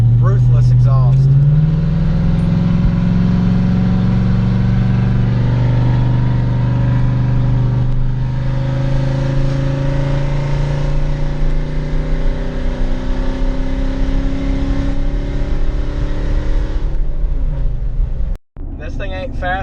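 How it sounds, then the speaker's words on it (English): A Chevy Silverado with a loud Carolina-style exhaust drones and revs for about twenty seconds, rumbling deep and close. Pitch climbs and falls as the engine works, and a voice talks briefly under it near the start. "I love this Carolina style, just freaking ruthless exhaust."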